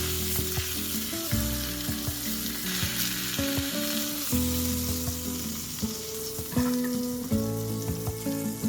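A beef steak sizzles steadily in a hot skillet, a loud continuous frying hiss with scattered pops, mixed with repeated kitchen clanks and chimes throughout.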